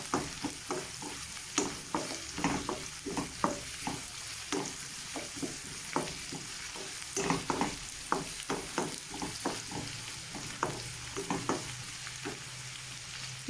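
Vegetables for mixed chicken fried rice stir-fried over a high flame, with steady close sizzling and a rapid run of scraping spatula strokes against the pan, no voices.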